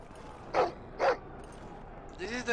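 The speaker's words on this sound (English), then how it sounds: "This is the fucking dog from the game." A dog in the Game of Thrones video game gives two short, sharp barks, then a whimpering whine, fairly close and moderately loud over a faint background hum.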